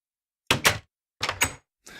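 A secret door in a modded Minecraft build swings open, giving two quick close thunks, then a second pair about a second later and one softer knock at the end, all clean with no voices.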